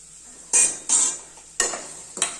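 Small and large onions with cinnamon, cloves, cardamom and curry leaves sautéed in a pan for village-style chicken kadai rice: four sharp bursts of sizzle and stirring scrape over a soft frying bed, close and without speech.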